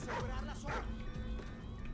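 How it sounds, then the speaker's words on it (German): A dog in the video game Call of Duty: Ghosts barks and yelps twice in quick succession at moderate volume, with a faint whimper and game background noise continuing after. "mit diesem Hund sollte man sich besser nicht anlegen."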